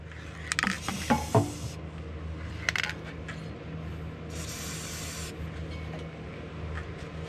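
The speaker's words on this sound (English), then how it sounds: "I like to put a little anti-corrosive spray" Anti-corrosive spray on the battery of a John Deere Gator TS utility vehicle during servicing: a few bursts of hiss between short clicks and knocks from the can and terminals, close by and fairly quiet.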